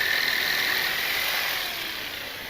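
A jigsaw cuts a curve in wood for a large garden gate, a steady high buzzing whine that is loud and close at first, then eases slightly toward the end, with no talking.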